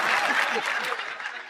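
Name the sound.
audience applause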